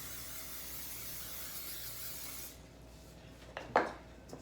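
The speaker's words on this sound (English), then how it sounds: "Then you're gonna take more cooking spray," Cooking spray hisses in a steady aerosol stream over the top of bread dough for French and garlic bread, running close and even for a few seconds, then stopping and giving way to a few soft handling knocks.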